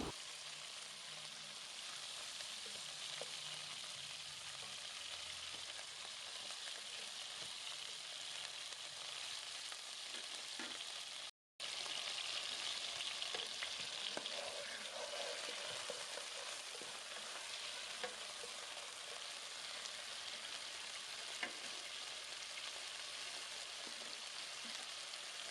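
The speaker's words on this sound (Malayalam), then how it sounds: "ചെറിയ കഷ്ണങ്ങളാക്കി അരിഞ്ഞു വെച്ചിരിക്കുന്ന ചിക്കൻ ഇതിൻ്റെ അകത്തേക്ക് ഇട്ട് കൊടുത്ത് ഒന്ന് ഫ്രൈ ചെയ്ത് എടുക്കാം" Small chicken pieces, about 750 grams for karahi chicken, frying in cooking oil, a steady dense sizzle that carries on evenly with one brief cut of silence, no voices.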